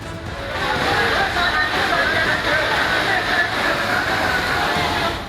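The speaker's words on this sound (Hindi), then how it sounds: "गली में पानी का तेज बहाव लोगों को डराने लगा।" Floodwater rushes loudly through a town street during heavy monsoon rain, a dense, continuous roar and slosh of fast-moving water close by, with no clear pauses.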